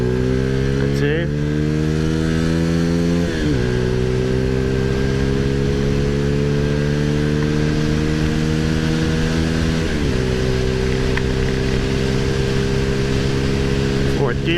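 An XPro Roadster X24 motorcycle accelerates from 0 to 60 on a highway, its engine note rising loud and close, dipping briefly at each gear shift, then climbing again through the gears.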